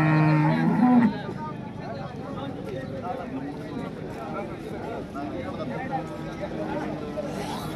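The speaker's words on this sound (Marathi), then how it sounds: "एक नंबर टॉप क्वालिटीची गाय आहे." A cow gives a loud, low moo at the start, then the busy murmur of a crowded cattle market in Modnimb, Solapur follows, with people talking throughout.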